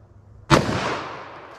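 .44 Magnum handgun fired into a target of denim, clear ballistic gel and medium density fiberboard: one sharp, loud close shot with a brief decaying ring, nothing else.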